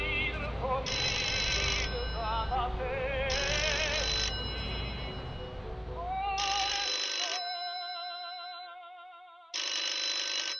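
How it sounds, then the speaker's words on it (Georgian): An old telephone bell rings in a university rector's office, repeated bursts of loud metallic trilling separated by pauses, over a low rumble that drops away midway. "რექტორის კაბინეტში ტელეფონი აზრიალდა."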